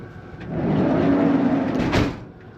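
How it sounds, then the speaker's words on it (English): A van's sliding door rolls along its track with a broad rumble and ends in a solid thud. Nothing else is heard. "I'll just go shut the sliding door, just so it's like less of a wind tunnel."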